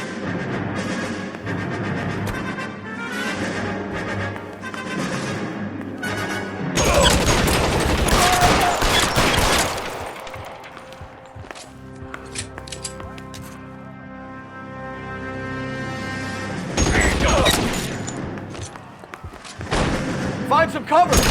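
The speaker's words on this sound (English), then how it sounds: "Shots fired." Gunfire in an L.A. Noire shootout, with loud crackling volleys of shots in two heavy bursts, separated by quieter stretches that hold scattered single shots and an orchestral score.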